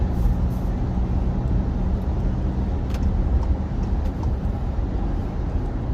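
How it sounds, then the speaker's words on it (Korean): A car cruises at night along Gimpo-daero on National Route 48 in Gimpo, steady broadband road and tyre rumble with engine drone heard from inside the cabin, constant and fairly loud throughout with no talking. "김포대로 주행 중입니다."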